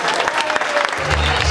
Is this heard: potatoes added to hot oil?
no